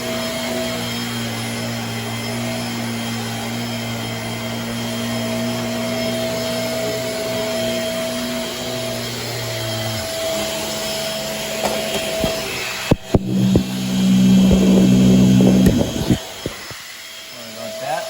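A Shark Navigator Swivel upright vacuum cleaner drones steadily while cleaning a basement, a close, continuous motor whine with shifting pitch, followed near the end by bumping, rattling handling noises and a louder rush before it winds down.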